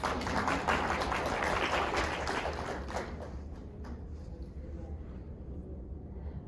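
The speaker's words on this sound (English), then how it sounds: "So I think that deserves a round of applause." Faint audience applause after a talk on home vascular access care rises briefly as a soft wash of clapping, then fades away over the next few seconds into quiet room tone.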